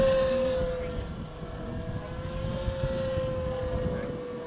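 A small RC Cessna 182 electric model plane with its propeller motor running and shaking under severe vibration; a steady close motor whine with a buzzing, rough undertone holds for the whole stretch.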